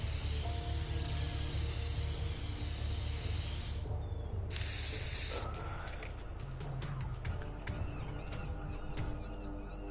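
Spray can painting in the video game Infamous: Second Son, with a steady loud hiss of paint spraying for several seconds that cuts off sharply, then a brief rattle of the can and some clicks over low game background sound.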